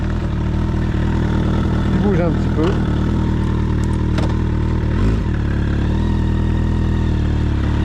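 A 1996 Suzuki 1200 Bandit with a carburettor engine idles loud and close with a steady, rumbling throb, while someone talks over it in French.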